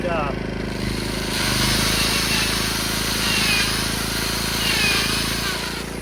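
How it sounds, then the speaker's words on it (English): A small portable generator engine hums steadily at a low, even idle in eco mode, close by, while someone talks over it. "Eco mode, it slows right down."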